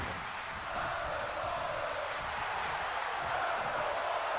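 A video-game crowd in Paris cheers a women's wrestling championship bout in WWE 2K26, a steady, distant roar of voices that holds evenly throughout with no single standout shouts.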